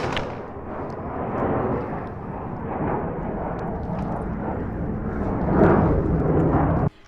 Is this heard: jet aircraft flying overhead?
yes